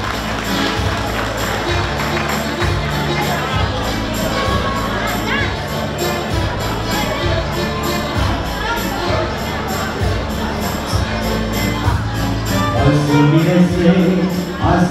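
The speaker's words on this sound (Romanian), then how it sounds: "aplauze și încurajări" Wedding guests cheer and clap for the bride and groom's dance at the couple's wedding, a loud, crowded din with shouts over steady rhythmic music that continues throughout.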